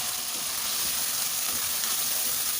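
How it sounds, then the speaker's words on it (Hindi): Taro and meat masala with coriander powder and salt frying in a pan, a steady, dense sizzle with a continuous hiss and no voices. "और इसको अच्छी तरह से भूनेंगे।"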